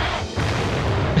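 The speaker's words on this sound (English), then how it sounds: "They didn't escape the blast." A loud explosion blast in the video game Jak 2, a short booming burst with a brief dip and a final thump, heard alone without talk.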